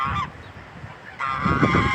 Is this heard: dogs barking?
no